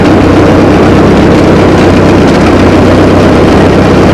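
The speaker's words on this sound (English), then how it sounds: "Back to the tractor, we're going down to the swamp." A farm tractor's engine runs loud and close in a steady low rumble with no pauses or voices.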